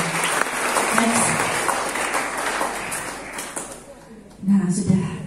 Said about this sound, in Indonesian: Tepuk tangan untuk sekitar pasangan.